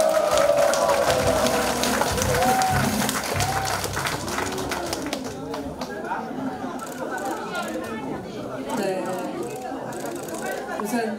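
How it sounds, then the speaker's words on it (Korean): Crowd applause welcoming party leader Choo Mi-ae at a candidate's campaign office opening, clapping mixed with chatter and voices, fading toward the second half as talk continues. "추미애 대표님께 큰 박수로 환영해 주시기 바랍니다"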